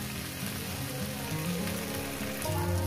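Vegetables fry in a pan with a steady rain-like sizzle, a close, even hiss that holds for the whole stretch and rises slightly near the end, with no one speaking.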